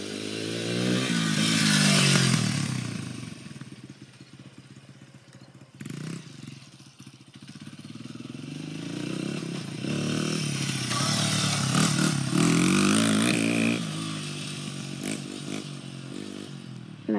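A pit bike engine buzzes and revs continuously up close while riding on a dirt track, rising and falling with throttle changes throughout.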